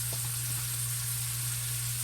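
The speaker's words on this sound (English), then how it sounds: "just saute it in this bacon grease for a few minutes" Vegetables saute in bacon grease in a pan, giving a steady, even sizzle throughout with a constant low hum beneath and no speech.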